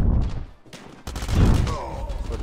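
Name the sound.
shotgun fire in the video game COD Mobile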